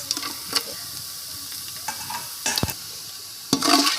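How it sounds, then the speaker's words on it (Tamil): Whole spices, cinnamon, bay leaf, cardamom, stone flower and star anise, sizzle in hot oil with cashews for mutton biryani, stirred by a spoon that scrapes and clinks against the pan in a few sharp bursts over a soft frying hiss. "எல்லாத்தையும் சேர்த்து நல்லா வதக்கி விட்டுறலாம்."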